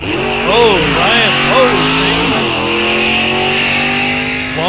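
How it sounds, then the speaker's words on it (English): A drag race car at Rock Falls Raceway launches hard off the line, its engine revving in rising sweeps while the tires spin, the loud harmonic roar settling into a steady high drone. "launched hard, spun the tires"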